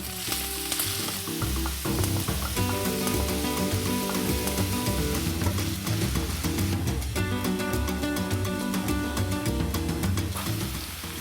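Onion hits hot olive oil in a pan, giving a loud, dense, continuous sizzle and crackle with occasional stirring scrapes, no talk over it.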